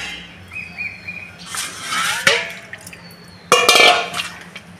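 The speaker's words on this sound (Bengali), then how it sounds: "পাতাগুলো নিয়ে নিচ্ছি, ভালো করে ধুয়ে নিচ্ছি 2-3 বার করে, আরেকবার ধোবো" Gandal leaves being washed in water in a metal pot, with splashing, sloshing bursts and a sharp clank of the pot, while birds chirp faintly in the background.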